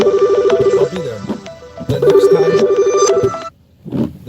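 A phone rings in two loud bursts of repeated electronic trilling, each about a second and a half long, with a short pause between them and a brief faint sound at the end.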